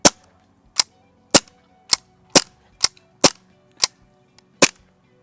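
An ASG CZ 75 SP-01 Shadow airsoft gas pistol fires nine sharp, loud, close shots at a fairly even pace of roughly one every half second, with no talking.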